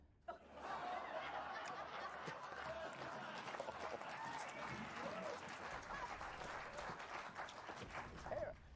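Studio audience applauding and laughing together, a steady dense clatter of clapping with chuckles and snickers mixed in, loud and sustained throughout.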